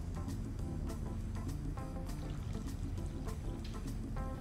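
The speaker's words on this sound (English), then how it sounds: "Add the water." Water pours steadily into a small cooking pot with a continuous splashing gurgle, close up, punctuated by a few light clinks.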